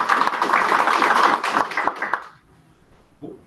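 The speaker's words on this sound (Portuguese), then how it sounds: "eu queria receber com uma salva de palmas" Applause from an audience greeting a speaker at a youth workforce inclusion event, a dense wash of clapping for about two seconds that fades out, followed by a short faint knock.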